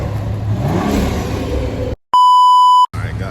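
A gas pump gives a single loud, steady electronic beep lasting under a second while refueling a 2023 Genesis G70 3.3T, framed by brief silences and low rumbling background noise.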